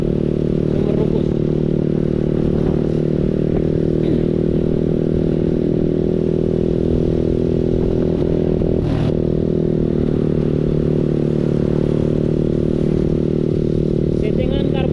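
Custom Honda Zoomer small motorcycle with a PE carburetor, idling steadily and loudly up close, a constant low engine drone with a brief clatter near the middle and people talking under it.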